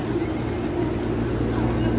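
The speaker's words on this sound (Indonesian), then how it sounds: "Banyak sekali merpati-merpati" Pigeons coo in the courtyard of Masjid al-Haram, a soft repeated throaty coo close by over a steady bed of crowd murmur and outdoor ambience.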